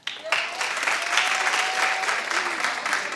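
A studio talk-show audience claps steadily in a dense, sustained burst of applause, with a faint tone running briefly underneath.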